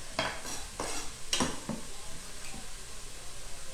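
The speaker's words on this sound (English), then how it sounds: "I'm just sauteing these down a little bit until the onions get soft" Onions for a spicy sausage and tortellini soup sauté in a pan, a steady sizzle with a few sharp stirring scrapes in the first two seconds, close and moderately loud with no talking.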